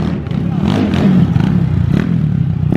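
A small motorcycle with a concealed 70mm big-bore 220cc engine revs loudly and steadily close by, its rough engine note rising and falling, with people talking over it.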